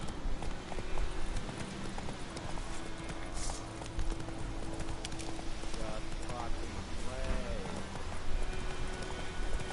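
Horse hooves clip-clop steadily in the video game The Witcher 3, a continuous trotting rhythm set within a dense, busy game soundscape with voices mixed in.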